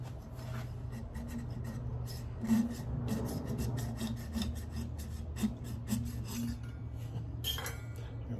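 A cocobolo hardwood blank turns on a lathe while a tool takes light passes, giving a steady close raspy scraping with a continuous low hum underneath and no talk.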